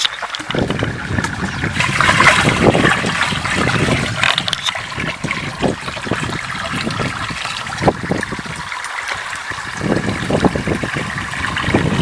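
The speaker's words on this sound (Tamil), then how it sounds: "முதல்ல கரைச்சி வச்ச வெள்ளத்தை வந்து இந்த இரநூறு தண்ணியில் வந்து ஊற்றிக்கணும்" Dissolved jaggery solution being poured into a 200-litre drum of water, a steady close splashing, trickling pour that runs continuously with some louder surges and no talking.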